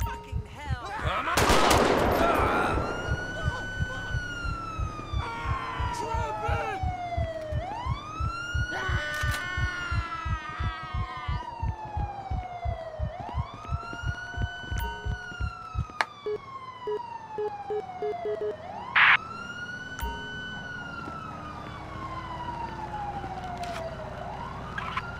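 An ambulance siren in GTA 5 wails in long rising and falling sweeps, loud and close, accompanied by rapid gunfire bursts early on and steady engine noise.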